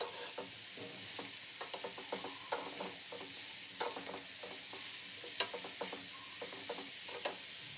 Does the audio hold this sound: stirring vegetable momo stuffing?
yes